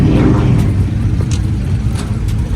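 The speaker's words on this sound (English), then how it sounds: "You finna pull off. With the Camaro." A Camaro convertible's engine rumbles steadily close by as it pulls away from a classic car meet, with a low droning roar and faint traffic noise throughout.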